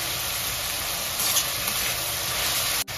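Freshly grated ginger drops into a pan already frying onions for a cauliflower and pea curry, setting off a steady, close broadband sizzle that runs evenly before a brief dip near the end.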